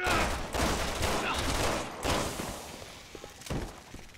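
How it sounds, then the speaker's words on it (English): Dense bursts of gunfire in the Resident Evil video game, a loud, chaotic fusillade of rapid shots that comes in waves and thins out toward the end, with no talk over it. "Laying down suppressive fire."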